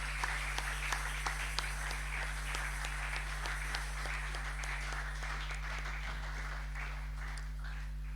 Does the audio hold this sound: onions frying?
no